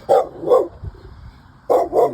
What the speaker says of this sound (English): See that dog right there?